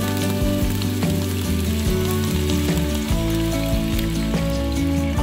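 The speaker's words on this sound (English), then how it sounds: "But I'm gonna add in this beef broth." Beef broth poured into a pot of browned meat for a crockpot soup sets off a steady, bright sizzling hiss that runs throughout, with background music playing underneath.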